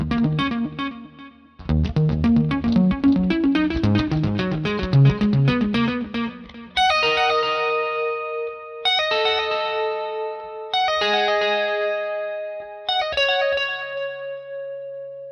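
A clean electric guitar tone through a TONEX amp capture, with chorus and echo shimmer: a fast picked riff at first, then a series of ringing sustained chords and arpeggiated notes, close and loud, no speech.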